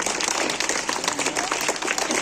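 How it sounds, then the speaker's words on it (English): Clapping from a school audience applauding the winning eighth-grade class at a test results ceremony, a brisk, continuous patter of many hands without voices over it. "Give a big clap for them."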